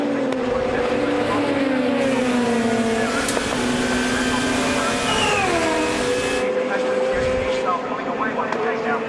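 WTCC touring cars racing at Brands Hatch in 2007, loud engines roaring and shifting pitch as they pass, under continuous commentary from a race commentator.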